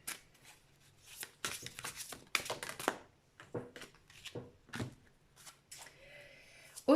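A tarot deck is cut and handled in a series of short, close papery swishes, shuffles and card snaps, quiet and intermittent, with some soft rustling between them.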